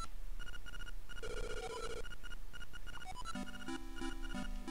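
In the video game Zelda Link's Awakening, a telephone rings as a repeating chiptune trill, followed by short rising and falling synth tones that form a little melody.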